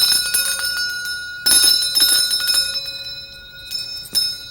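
A bell rings in short, bright strikes, with a loud burst partway through and more strikes near the end, heard alone with no voices, in a children's educational program scene.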